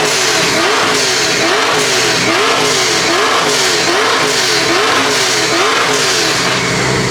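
A drift car revs hard on a two-step rev limiter at a Clean Culture car meet's 2-step battle, a loud, continuous engine roar that stutters in rapid repeating pulses as it bounces off the limiter.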